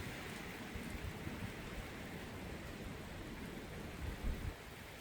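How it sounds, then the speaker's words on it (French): Steady rain falls with a rushing wind behind it during a storm in Isère, France, a constant stormy roar with a brief low rumble near the end. "ce bruit de vent qu'il y a derrière. Et de pluie en même temps."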